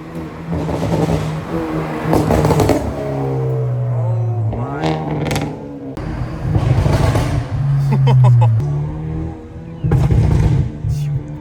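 A loud, raspy straight-piped Hyundai Elantra N exhaust revs hard in repeated bursts, rising and falling with sharp crackles between pulls, close by.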